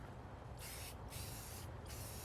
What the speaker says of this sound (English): I'm going to spray paint it black.